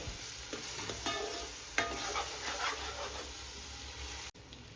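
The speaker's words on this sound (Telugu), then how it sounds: "ఇప్పుడు మనం దీనిపైన మూత పెట్టుకుని టూ మినిట్స్ అయిన సిమ్లోనే మగ్గనివ్వాలండి" Village-style fish curry simmers in oil in a covered pan, giving a steady low sizzle and bubbling with occasional soft clinks, close and fairly quiet throughout.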